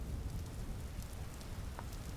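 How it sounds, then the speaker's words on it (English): Rain falling in the survival video game Vintage Story, a dense, steady hiss of downpour with fine droplet patter and a low rumble beneath, continuous and fairly loud throughout. "Oh, it's raining like 5 feet over from my house."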